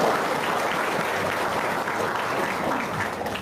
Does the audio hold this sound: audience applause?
yes